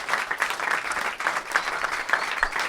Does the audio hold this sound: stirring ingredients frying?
no